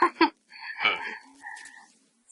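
Frogs in the jungle setting of the video game Metal Gear Solid 3 croak in a few separate calls, clear and fairly close against a quiet background.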